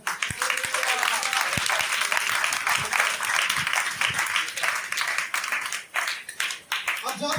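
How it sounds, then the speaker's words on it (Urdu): A church congregation in Pakistan breaks into loud, sustained applause that fills the room for several seconds, with voices mixed in and the clapping thinning out toward the end. "کہ زوردار تالیاں ہوں۔"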